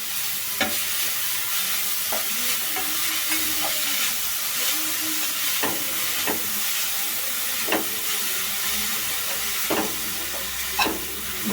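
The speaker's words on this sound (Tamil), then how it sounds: "நல்லா ஃப்ரை ஆகுது" Carrots frying in ghee for carrot kheer give off a steady, close sizzle and hiss, broken by regular sharp scrapes and taps of a spoon stirring the pan, with no voices.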